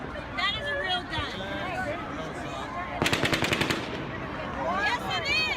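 Rapid automatic gunfire burst from the Las Vegas shooting, a quick string of sharp cracks lasting under a second amid crowd noise and overlapping voices, somewhat distant.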